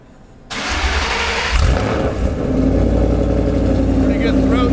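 A 2011 Shelby GT500 Mustang fitted with stainless headers cranks and fires up close by, catching with a sudden deep roar, then settling into a loud, throaty idle.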